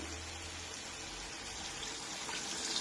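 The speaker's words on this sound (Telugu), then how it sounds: "కొంచెం వాటర్ పోయాలి." Water pours steadily into a pan of village-style Godavari fish curry, a continuous gushing splash that holds at a fairly even level for a few seconds, with no talking.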